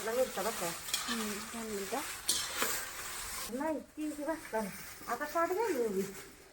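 Dry red Byadgi chillies roasting and being stirred in a pan for homemade red chilli powder, a steady scraping and rustling sizzle heard up close while someone talks over it throughout.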